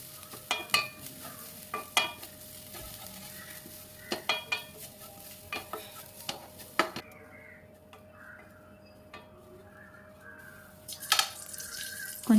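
Grated coconut roasts in ghee in a pan for a sweet poha dish, with soft frying under irregular sharp scrapes and clinks of a spoon against the pan, quieter in the middle stretch.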